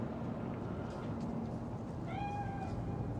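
A cat spirit in Cyberpunk 2077 lets out a single drawn-out meow with a rising then falling pitch, fairly faint over a steady background hum.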